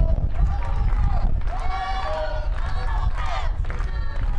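A home crowd of Humboldt Cubs fans at a 2012 KSHSAA 3A high school baseball third-place game, their steady cheering and murmur running under continuous play-by-play commentary.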